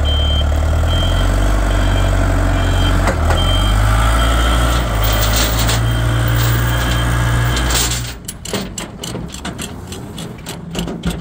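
Diesel forklift being loaded onto a truck for delivery, loud idling engine rumble with reversing beeps over it, then the engine cuts off, leaving clattering knocks and handling noises.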